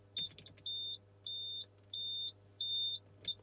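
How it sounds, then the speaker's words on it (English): When the roof is operated, a Ferrari F355 Spider gives its warning as five evenly spaced, sustained high-pitched electronic beeps. The pattern is clear and regular, with faint handling noises around it. "otherwise you're just going to get an annoying beep like this"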